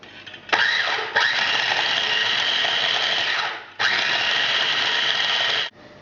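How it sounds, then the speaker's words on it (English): A food processor blitzes fresh ginger for a ginger loaf cake, whirring loudly in two bursts of a few seconds each, with a short pause between them and no talking. "So either using the large food processor or in your smaller one, just whiz it up."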